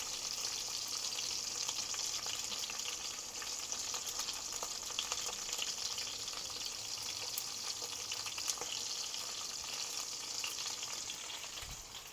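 A5 Japanese wagyu ribeye steak sizzles steadily in a pan over medium-low heat, a continuous close frying hiss with faint crackles and no talking.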